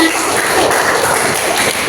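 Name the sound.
classroom applause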